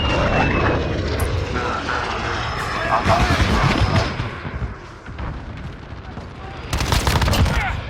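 Gunfire in the Modern Warfare beta, with rattling bursts and explosions over a loud battle din with aircraft noise, plus radio-style voices talking throughout.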